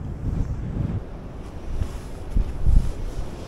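Strong wind buffets the microphone outdoors during extreme bottom fishing, a continuous low roaring rumble with gusty surges and no talk.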